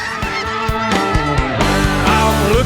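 A flock of geese honks loudly and continuously overhead during a Canadian waterfowl hunt, the calls overlapping in a dense chorus alongside a steady tonal backing.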